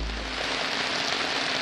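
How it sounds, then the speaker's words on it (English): Steady rain falling in eastern Aleppo, a dense, even hiss of drops on surfaces with a low rumble beneath, fairly close and continuous, no voices. "Now it's raining, but a little bit calmer."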